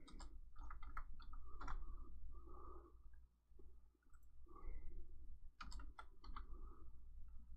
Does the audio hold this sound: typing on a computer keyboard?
yes